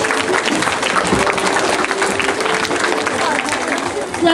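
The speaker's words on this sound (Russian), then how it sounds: "Похлопаем." Audience applause at a school arts festival for pupils in grades 4–6, welcoming the jury: steady, dense clapping from a full hall, loud and continuous throughout.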